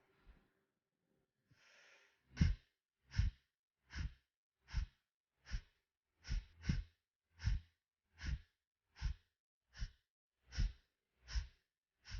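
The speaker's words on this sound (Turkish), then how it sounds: "Derin nefes alıyoruz ve sadece nefesi dışarıya vereceğiz." Kapalbhati yoga breathing: after a soft inhale, about fifteen sharp, forceful nasal exhalations come at a steady rhythm of roughly one every 0.7 seconds, close and clear with no talking.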